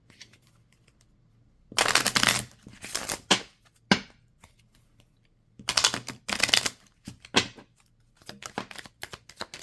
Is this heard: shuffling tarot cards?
yes